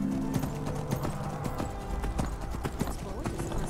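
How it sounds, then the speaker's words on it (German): Rhythmic clip-clop of galloping hooves in Skyrim in a steady beat, fairly close, with game-style ambience and a voice talking over it. "Wenn wir galoppieren können, unser Pferd also sogar über Wasser gehen"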